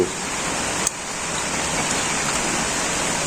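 Steady, loud rain falls close by in a village, a dense unbroken hiss of drops on surfaces that runs throughout.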